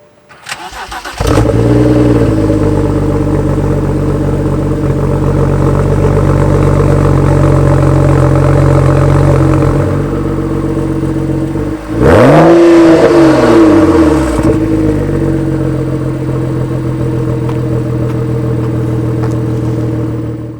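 A car engine cranks and catches, then settles into a loud, steady idle close by, with a sharp rev rising and falling near the middle before it returns to idling.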